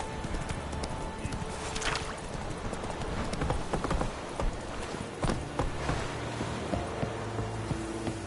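Roach the horse's hooves clip-clop in a steady trotting rhythm across a video game world, fairly close and continuous over busy ambient game sounds, with no talking.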